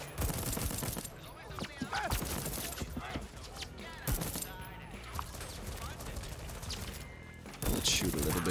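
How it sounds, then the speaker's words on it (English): Loud, rapid gunfire fills the Deathloop video game on Xbox Series S, with dense bursts and single shots running almost continuously, and someone talks over the shooting. "Let's shoot a little bit. Awesome gameplay. The shooting feels so good."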